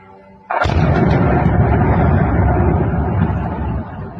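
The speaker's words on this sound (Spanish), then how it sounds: "Podéis oír disparos de armas ligeras." A sudden loud burst of small arms gunfire starts and becomes a sustained, rattling roar of shots that continues to the end without letting up.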